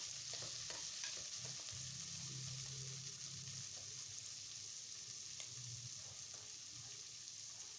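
Spices fry for mutton sambar, a soft, steady sizzle with occasional stirring taps and a brief low hum, faint and continuous throughout.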